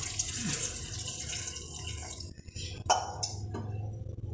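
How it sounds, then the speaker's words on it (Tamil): Water is poured into a cooker of soaked beans, splashing and trickling steadily with a couple of clinks, fairly close and moderately quiet. "இப்போ இது கொஞ்சம் மூழ்கிற அளவுக்கு நம்ம தண்ணியை ஆட் பண்ணிக்கலாம்."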